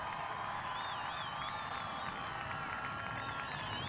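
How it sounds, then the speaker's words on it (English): A grandstand crowd at a USA vs. WA Speedweek sprintcar speedway race in Perth, January 2024, cheers, whoops and applauds at the finish, a dense, steady roar that stays unbroken throughout. "Rapturous applause. Yes. Screaming, yelling"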